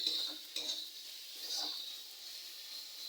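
Vegetables with tomato, chilli powder and green chillies being sautéed in a pan for homemade pasta, a quiet, steady hiss with a few soft scraping stirs, fairly faint and without talk.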